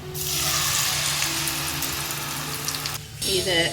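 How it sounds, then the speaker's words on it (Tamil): Buttermilk batter for mor koozh goes into a hot pan of fried tempering: a strong, steady sizzle cuts out suddenly, then a watery splash and fresh bubbling sizzle follow. "இப்போ கரைச்சி வச்சுருக்க அந்த மோர் இதை விட்டுறலாம்"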